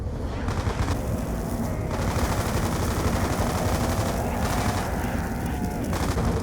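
Dense, continuous automatic gunfire sprays from a video game during a tournament match, with rapid overlapping bursts that stay loud throughout while voices talk over it.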